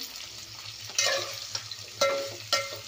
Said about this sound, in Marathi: आता कांदा गुलाबी होईपर्यंत आपण परतून घेणार आहे